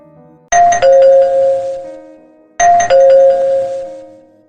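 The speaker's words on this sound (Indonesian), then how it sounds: "Suara bunyi bel yang sangat menggema membuat merinding mereka berdua" Echoing ding-dong doorbell chime at a house gate, rung twice in a row, each two-tone chime loud and ringing out with a long reverberant tail, no voices.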